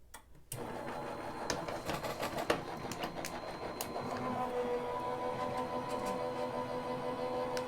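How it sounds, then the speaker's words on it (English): Card stock being fed through a die cutting machine for a handmade card produces a steady close mechanical whir with scattered sharp clicks, running continuously for several seconds with no talking. "we're gonna run this through our die cutting machine"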